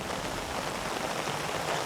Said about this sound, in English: It's raining, but it's not cold